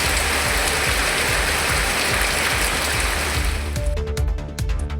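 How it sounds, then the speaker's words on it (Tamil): Steady drizzle falls in a dense, even hiss, close and continuous, with a few faint clicks and a short tone toward the end. "சுமார் அரை மணி நேரத்திற்கு மேலாக சாரல் மழை பெய்தது"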